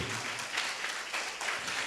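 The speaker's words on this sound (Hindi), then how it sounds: "जोरदार ताली बजाओ प्रभु के लिए।" Congregation in a church clapping loudly together, a dense continuous wash of applause in pulsing waves, with a faint voice underneath.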